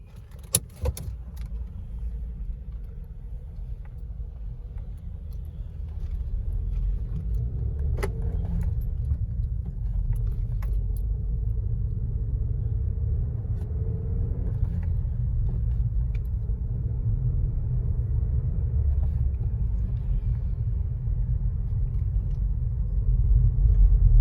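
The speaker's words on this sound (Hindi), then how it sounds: "अब मैं गाड़ी चलाता हूँ" Steady low engine rumble and road noise inside a 2023 Maruti Suzuki Brezza VXI smart hybrid as it drives, continuous and fairly loud throughout, with a brief rattle near the start.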